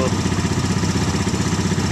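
A car fitted with a motorcycle engine idles through a Thunder muffler bent toward the rear and ending in a small pipe, giving a close, steady, rapidly pulsing exhaust putter.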